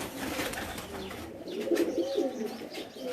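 Pigeons on the rooftop loft of a DSP's house in Moch, Mianwali, giving soft, low, rolling coos close by over a continuous background hum, with no talking.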